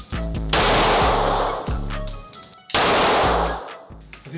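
Loud gunfire from an M19 pistol at an indoor shooting range, two close bursts of rapid shots with sharp attacks and ringing decay, no talk.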